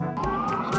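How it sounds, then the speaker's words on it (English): Fire truck siren sounding outdoors near a venue, a steady wailing tone rising across the short moment, fairly close and loud over background street noise. "I've been here for 3 seconds and there's already sirens."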